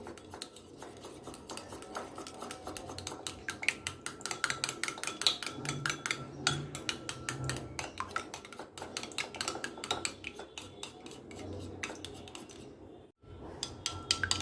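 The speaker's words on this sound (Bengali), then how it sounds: "কিছুটা লিকুইড দুধ সব কিছু ভালো করে মিশিয়ে নিব" A spoon clinks and scrapes rapidly against a bowl while eggs, honey and milk are whisked together for a sweet bread-dipping batter, a steady clattering rhythm that stays close and busy throughout with a brief pause near the end.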